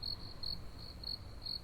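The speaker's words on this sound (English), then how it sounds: "the stark silence of the night, save for some crickets" Crickets chirp steadily in the night quiet, a fairly faint high pulsing trill that repeats in short bursts over a low background hum, with no voices.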